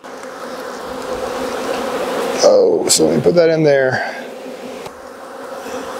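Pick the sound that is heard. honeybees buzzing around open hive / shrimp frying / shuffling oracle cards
honeybees buzzing around open hive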